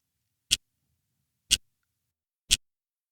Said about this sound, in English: By default, this uses the ticking sound known from the Pomodoro kitchen timer.